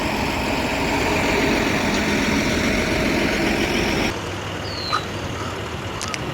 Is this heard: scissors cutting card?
no